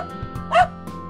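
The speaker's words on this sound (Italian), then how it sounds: "Questo è il cane." A single short cartoon dog bark in an Italian children's educational cartoon about pets, rising briefly over a soft, steady musical background.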